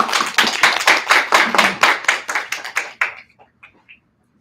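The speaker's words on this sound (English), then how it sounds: "So join me in a hand of applause, waiting for our speakers to come up and present" An audience at a university thesis presentation claps for a few seconds, the applause loud and dense at first and then thinning into scattered claps before it stops.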